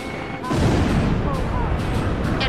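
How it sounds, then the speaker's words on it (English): A missile strikes its target in Ace Combat 5, setting off a loud, rumbling explosion that swells after a short quieter lead-in and keeps roaring as a dense wash of blasts, with radio voices talking over it. "The captain's missile hit the target."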